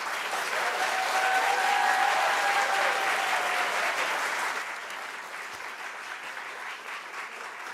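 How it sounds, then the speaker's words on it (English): Audience applause for young poets at a community arts event, a thick wash of clapping that stays loud for several seconds, then thins to softer, sparser clapping. "Let's give a round of applause for our two young San Francisco poets, Irana and Dillinger."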